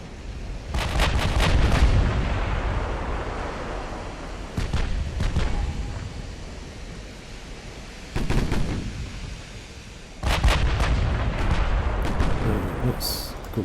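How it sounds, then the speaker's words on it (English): Battleship main guns fire in the naval game Ultimate Admiral: Dreadnoughts, heavy booming salvos that land several times in bursts, each followed by a long rumbling roar. "main guns. Both firing at the battleship."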